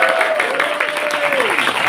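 An audience at a youth event claps in a dense, loud, continuous round of applause, with a faint voice or tone gliding underneath.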